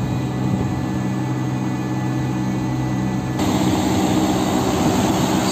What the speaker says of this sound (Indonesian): Yan guys, kung narinig nyo guys, so mandar yung fan,